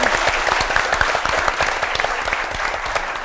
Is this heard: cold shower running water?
no